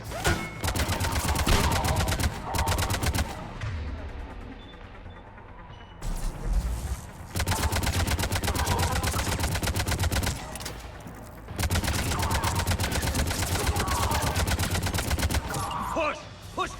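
Rapid gunfire in the video game Mass Effect 3, long sustained bursts of fast repeating shots broken by short pauses, loud and close.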